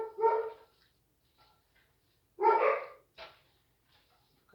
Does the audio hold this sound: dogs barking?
yes